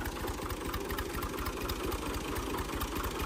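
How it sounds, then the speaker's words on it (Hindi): A tractor engine runs steadily while being driven, a continuous low rumbling throb with a fast chugging pulse, close and fairly loud throughout with no talk. "अली को तो ट्रैक्टर भी चलाना आ गया है।"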